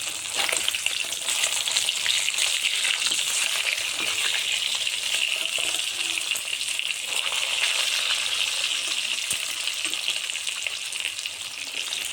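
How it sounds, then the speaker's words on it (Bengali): Catla fish sizzles steadily in a pan of hot oil, a dense, continuous crackling hiss that stays loud and even throughout with no voices. "মাছটা আমার ভাজা হয়ে গেল"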